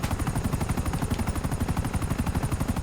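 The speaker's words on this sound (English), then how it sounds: "I ain't bad at flying the helicopter" A Buzzard helicopter in GTA 5, its rotor giving a fast, rhythmic chopping beat that holds steady and close throughout.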